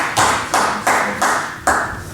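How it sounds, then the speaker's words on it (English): Scattered audience applause during a Pecha Kucha talk session, coming in short bursts of a few hands clapping at a time with brief gaps between them. "Some applause at the back."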